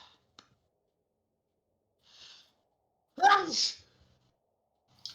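A single sharp sneeze bursts out midway, loud and close, during a tabletop fantasy role-playing session, with soft breaths and small clicks around it.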